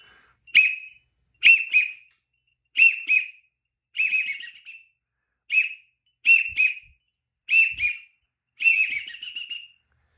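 A duck call whistle imitating a wigeon blows a series of eight sharp, high whistled bursts, each a quick double or triple note, evenly spaced and close by.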